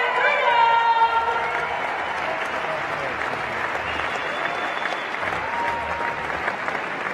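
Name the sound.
crowd applause at CrossFit Games awards ceremony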